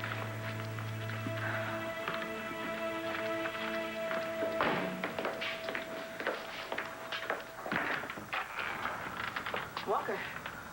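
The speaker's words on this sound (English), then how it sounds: "Listen, that's the door." Knocking at a door in a daytime soap opera scene, a few sharp raps standing out midway against steady background music, with no talking.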